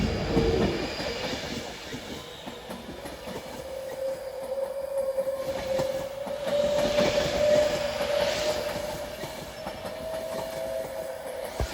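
An Avanti West Coast Class 390 Pendolino passes through Preston station with a rolling rumble, rail clatter and a sustained whine, fairly distant and steady throughout.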